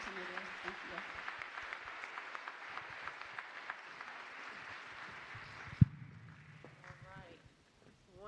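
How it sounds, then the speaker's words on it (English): Audience applause for a justice conference panel, fairly faint, steady clapping that stops abruptly partway through, followed by a brief thump and some quiet talking. "Give this panel a round of applause."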